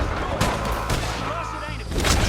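Gunfire in the video game Red Dead Redemption 2 comes as several sharp shots spread across a short firefight, some close and loud over game background sound, with voices in between.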